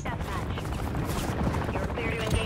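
BAL-27 rifle gunfire in a Modern Warfare 3 match, dense and continuous shots layered with game effects and voices talking over the action.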